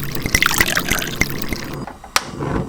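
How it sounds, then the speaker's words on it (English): Cold water trickles and dribbles into a miniature saucepan in a short, close pour with small splashy drips, stopping abruptly near the end after a sharp knock. "Fill the saucepan with cold water."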